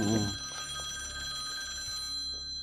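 An old home landline telephone rings with a steady electronic trill, moderately loud and sustained, with faint background noise and no talking.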